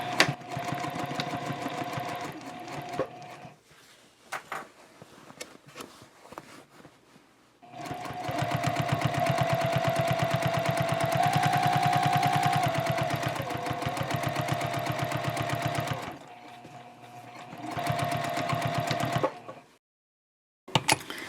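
A sewing machine backstitches a tote bag seam in several close bursts of rapid, rattling stitching, separated by short pauses, with a long steady run in the middle.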